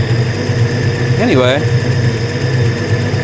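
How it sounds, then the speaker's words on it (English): A swapped engine in a Ford F100 pickup runs at a steady idle in a garage, loud and close, with a voice speaking briefly over it. "we got the engine running. Sounds pretty good."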